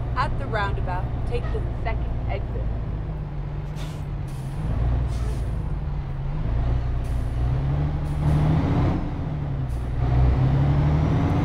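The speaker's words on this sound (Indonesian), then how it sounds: "Suara mesinnya sih ya standar lah" A heavy truck engine drones low and steady in Euro Truck Simulator 2, with hissing air-brake bursts now and then and a talking voice over much of it.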